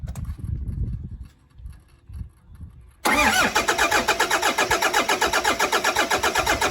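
Car engine after a water pump and timing belt replacement: the starter cranks unevenly for about three seconds, then the engine catches loudly and settles into a close, rapid, steady idle pulse.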